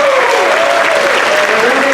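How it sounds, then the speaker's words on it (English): A hall audience at a community awards summit claps steadily, with dense and even applause filling the whole moment and a voice faintly under it. "Give him a round of applause as well."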